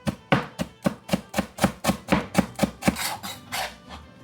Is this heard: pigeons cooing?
no